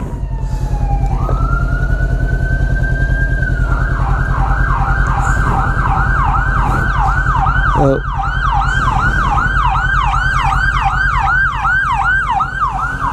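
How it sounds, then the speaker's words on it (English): A loud wailing emergency siren rises, then settles into a rapid repeating yelp over a steady engine rumble from a 2016 Honda CB500X motorcycle on a commute, close and continuous throughout. "Comes a siren, it's not behind us"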